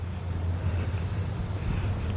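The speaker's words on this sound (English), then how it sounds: "the cicadas just cannot help themselves either." Cicadas drone outdoors on a noisy neighborhood day, a steady, dense, high-pitched buzz holding unbroken throughout with a low hum beneath it and no talking.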